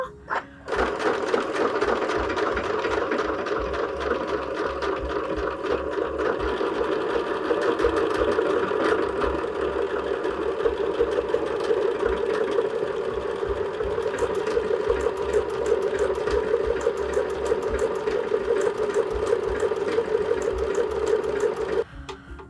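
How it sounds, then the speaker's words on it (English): A sewing machine runs steadily for about twenty seconds, stitching a decorative stitch on a holiday-themed cushion cover. The close, continuous motor whir holds even throughout and stops abruptly near the end, with no talking. "A little bit of a decorative stitch, maybe just under here."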